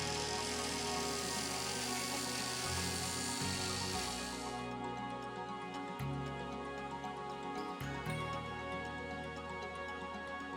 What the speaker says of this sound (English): Tighten the cut-off saw fence securely. Cut the damaged material off from the shaft.